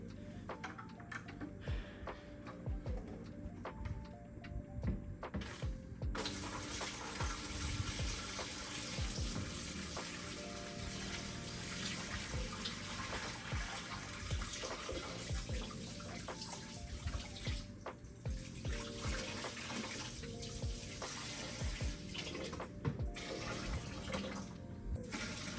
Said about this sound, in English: All we need now is the water. Let me go get that and we'll pour it in here.